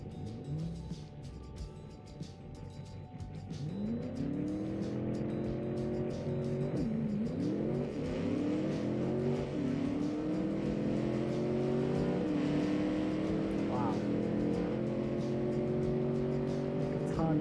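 A muscle car accelerates hard on a timed speed run, its engine rising in pitch through several gear shifts with a loud, continuous roar that builds and stays close until the end.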